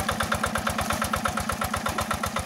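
A Yanmar TF 70 tractor engine idles in a rice field, its single cylinder chugging in a rapid, steady beat, close and loud with no voices.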